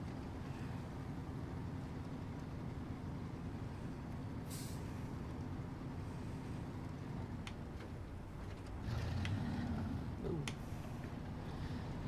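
A Fleet Star truck engine in the SnowRunner video game drones steadily throughout, a low continuous rumble with faint wind-like hiss and a few brief higher clanks over it.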